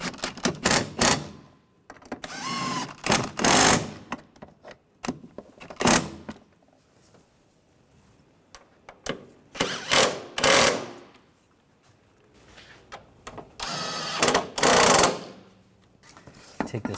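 A ratchet tightens ignition coil bolts on a 2009–2010 BMW 535i xDrive 3.0L inline-six, coming in quick clicking bursts of a second or so separated by quiet pauses, close and loud.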